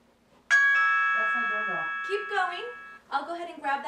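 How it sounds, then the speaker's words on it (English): A single electronic doorbell chime rings out clearly and decays slowly, while a person keeps talking over its fading tone. "That's my doorbell."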